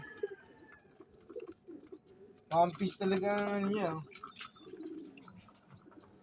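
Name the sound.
derby pigeon cooing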